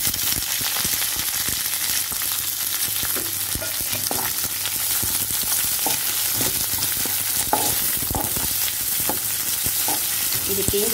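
Onions and green chillies frying in hot oil, a loud continuous sizzle with occasional stirring clicks throughout.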